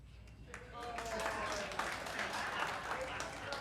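Audience at a live comedy show applauding in response to a comedian's question, a steady broadband wash of many hands clapping that swells after a brief start and holds fairly loud throughout.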